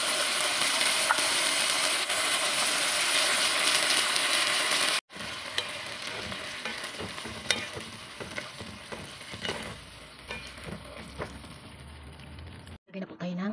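Sardines sautéing in a pan make a loud, dense sizzle that cuts off abruptly, then resumes quieter with rhythmic stirring clatter and scraping, close and continuous, with a brief drop near the end.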